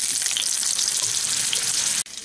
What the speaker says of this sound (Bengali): এখন আমি আলুগুলোকে তেলের মধ্যে দিয়ে দিচ্ছি ভাজার জন্য।